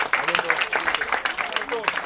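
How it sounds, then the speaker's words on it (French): Audience applause at a gathering in Adzopé, a dense patter of many hands clapping throughout, with voices and cheering mixed into the crowd noise. "Bravo, on applaudit s'il vous plaît."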